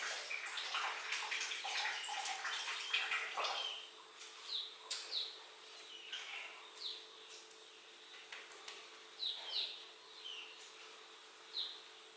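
Bathroom tap water gushes steadily for a few seconds, then cuts off, leaving faint, quiet surroundings with scattered bird chirps in the distance.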